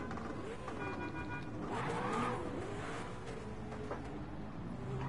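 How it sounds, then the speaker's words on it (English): A turbocharged car engine in the Gran Turismo 7 driving game, heard as a quiet, steady engine drone with some rising revs, playing low in the background. "the turbo on this thing sounds so nice, but so slow"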